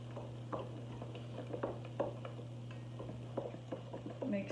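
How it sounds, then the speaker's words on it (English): A spoon stirs grits cake batter of all-purpose flour and baking powder in a bowl, with soft, faint, irregular clicks and scrapes over a steady low hum. "Mix it well, it starts to bubble"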